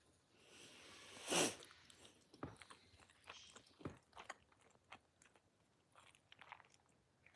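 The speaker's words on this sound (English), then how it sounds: "I'm just chewing." A person chews food close to the microphone, with a sharp crunchy bite near the start followed by quieter, irregular chewing and mouth sounds.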